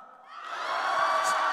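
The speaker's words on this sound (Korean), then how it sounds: "지금 2초 동안 막 박수치고 최고의 함성을 내는 거예요" Church congregation at a Korean revival service clapping and cheering in a short burst, a loud, dense crowd roar with whoops that swells over about a second and holds steady.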